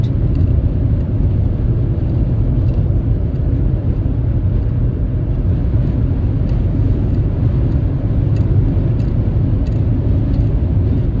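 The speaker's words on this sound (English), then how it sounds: "Yeah, the truck pulled off." A truck pulling away outdoors on a windy day, heard as a loud, steady low engine rumble mixed with wind noise that holds unbroken throughout, with no talking.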